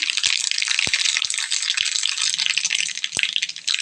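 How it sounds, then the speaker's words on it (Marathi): Mustard seeds crackle and spit in hot oil in a home kitchen while a Marathi raw mango chutney is made, giving a dense, steady sizzle with scattered sharp pops, close and without talk. "मोहरी चांगली कडकडली"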